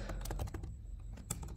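Fingers tap out a short burst of keystrokes on a computer keyboard while entering code in a Django project, quick clicks in an uneven rhythm, close and quiet with a pause midway.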